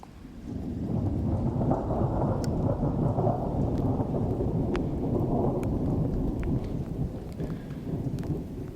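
Steady heavy rain falls during a thunderstorm on a wet, root-covered mountain trail in Yosemite, a dense even wash of sound lasting throughout, with faint crackles and drops on top.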